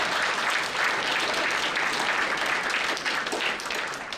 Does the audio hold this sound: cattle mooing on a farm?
no